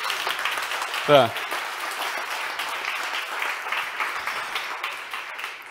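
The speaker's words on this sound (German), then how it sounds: "Das ist doch ein kleiner Applaus wert." Audience at a university festival keynote applauding, steady moderate clapping throughout, with a brief single spoken word near the start.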